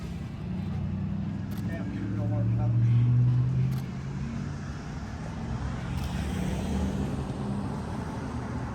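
A car rumbles past on a road, swelling and fading, while people talk over steady traffic noise.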